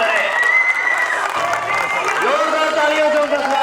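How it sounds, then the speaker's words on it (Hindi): An audience at a Diwali evening event with soldiers at the border applauds steadily, a broad wash of clapping heard together with a voice and tonal sounds over it. "दर्शकों से अनुरोध है कि जोरदार तालियां बजा के उनका स्वागत करें।"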